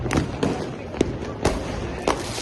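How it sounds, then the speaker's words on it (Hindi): Fireworks and firecrackers bursting around a Basant Panchami festival in Farrukhabad, with sharp cracks at irregular intervals over a steady crowd din and faint voices. "चारों तरफ आतिशबाजी का शोर, पटाखों का शोर, और चारों तरफ आतिशबाजी चल रही है।"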